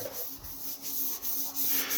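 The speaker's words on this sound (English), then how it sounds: "you can hear the difference when I rub my hand over it" A hand rubs back and forth over a pitted, painted surface, giving a close, soft scratchy rasp in repeated short strokes with brief pauses between them.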